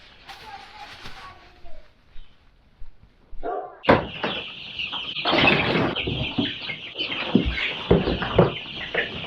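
Chicks and chickens clucking on a homestead alongside sheep, with soft calls early, then loud bursts of clucking and rustling up close, and people talking over them.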